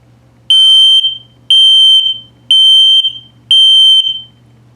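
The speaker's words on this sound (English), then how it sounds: "LP check is good, carbon monoxide coming up, and low battery alarm." An RV LP gas and carbon monoxide detector in a 2022 Starcraft Autumn Ridge 26BHS camper sounds a test alarm of four loud piercing shrill beeps at a steady rhythm, each paired with a low buzzing tone between them, close up.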